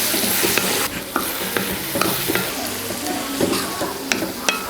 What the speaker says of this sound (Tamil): இப்போ எல்லாமே நல்லா வதங்கி வருது.